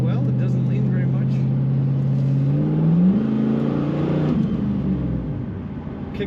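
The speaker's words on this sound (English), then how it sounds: "Kick down working on that automatic transmission as it should." A 1999 Pontiac Firebird Trans Am convertible's automatic transmission kicks down as the V8 revs up under hard acceleration, a loud rising engine drone that climbs in pitch and then eases, heard from inside the car.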